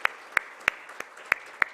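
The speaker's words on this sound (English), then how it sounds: "Kindly keep the applause going." Scattered, sparse claps at a ministerial conference brochure release, six or so distinct sharp hand claps spaced irregularly, fairly quiet and distant with no talk over them.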